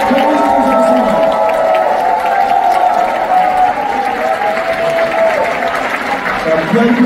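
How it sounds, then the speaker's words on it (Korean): A crowd at a 2024 award ceremony and talk concert applauds and cheers to welcome the owner of the football club FC Anyang, a loud, sustained wash of clapping and cheers with a voice carrying over it. "여러분 뜨거운 박수로 FC 안양의 구단주님을 환영해주시겠습니다"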